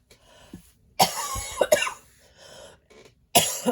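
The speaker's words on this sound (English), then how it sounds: "I don't want to cough." Several harsh coughs come in separate bursts, with quieter breathy throat sounds between them, close to the listener.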